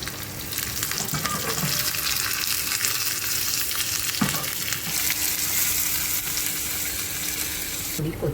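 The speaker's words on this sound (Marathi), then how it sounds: "मी आता डाळीला फोडणी देत आहे" Dal being tempered with garlic, curry leaves, turmeric and asafoetida in hot oil, a loud, close, continuous sizzle and crackle with occasional stirring scrapes, nearly free of talk.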